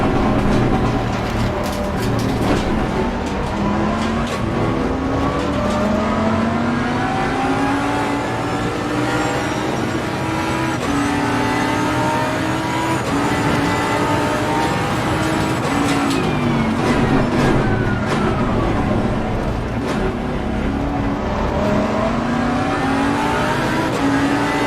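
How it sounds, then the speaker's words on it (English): A Jaguar GT3 race car's front-engined V8, built on the XKR road car chassis, revs hard in Assetto Corsa Competizione at the Zolder circuit, climbing through gears in a loud, continuous howl with rising shifts. "Based on the chassis of the popular XKR road car, its front-engined V8 packs a punch and an impressive soundtrack."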